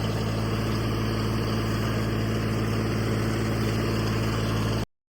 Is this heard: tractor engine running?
yes